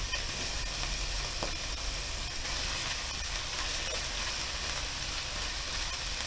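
Longganisa sausage frying in oil with garlic: a steady, dense sizzle that holds unbroken and fairly loud throughout, with no voices over it.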